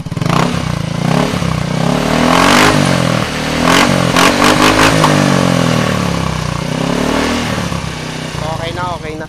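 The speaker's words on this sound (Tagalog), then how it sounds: "So yun yung tunog ng chicken pipe Apido" Yamaha Mio scooter fitted with an Apido chicken pipe exhaust, revved hard and close: a loud, raspy engine roar rising and falling through several throttle blips, with some clatter.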